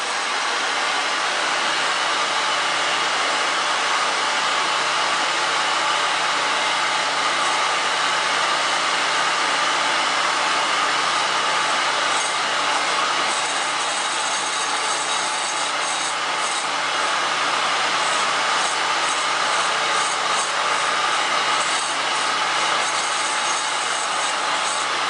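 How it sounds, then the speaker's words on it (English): A hot air blower heats a Pedors shoe to mold it back toward its original shape, giving a loud, constant broadband whoosh of air that runs without break and without speech. "Now I'm going to apply heat, and you're going to see this go back down to close to the original shape."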